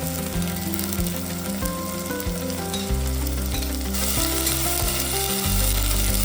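Fresh ginger garlic paste frying in a clay pot for chicken curry, with a loud, continuous sizzle and crackle close by, alone under a steady droning music bed.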